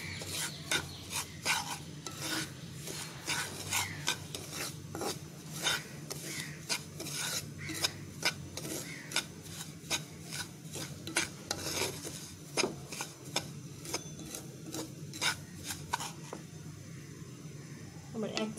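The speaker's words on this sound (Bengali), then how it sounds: "এবার ঘিয়ের সাথে সুজিটাকে আবার খুব ভালোভাবে মিশিয়ে ভেজে নেব।" Semolina fried in ghee and stirred with a spoon, making repeated rhythmic scraping and rasping strokes against the pan at close range, with soft talk in the background.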